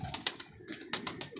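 Pigeons coo softly at close range, a few brief throaty calls in quick succession.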